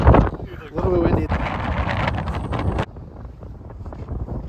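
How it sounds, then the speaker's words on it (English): Strong gusting wind buffets the microphone during ice camping on frozen Lake Pepin, a loud, rough roar that drops abruptly to a lower steady rush partway through. "A little bit windy."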